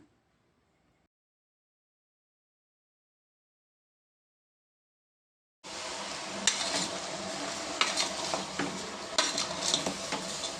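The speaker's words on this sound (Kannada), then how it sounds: "ಈಗ ನೀರಲ್ಲಿ ತೊಳ್ಕೊಂಡಿರೋ ಮಟನ್ ಹಾಕ್ಕೊಂಡು 1/2 ಟೀ ಸ್ಪೂನ್ ಟರ್ಮರಿಕ್ ಮತ್ತು ಸ್ವಲ್ಪ ಉಪ್ಪನ್ನ ಹಾಕ್ಕೊಂಡು ಚೆನ್ನಾಗಿ ಮಿಕ್ಸ್ ಮಾಡ್ಕೊಳ್ಳೋಣ." Washed mutton pieces mixed with turmeric and salt in a metal vessel, heard as close scraping, squelching and clinking strokes that start after several seconds of silence and continue steadily.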